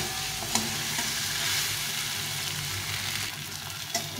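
Curry being stirred and fried down in a pan for a home-style Bengali dish, giving a steady sizzle with scraping stir strokes throughout and a couple of sharper clacks, close and continuous with no talking.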